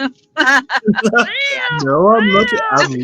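A cat gives several drawn-out, rising and falling meows close by, mixed in with a person speaking.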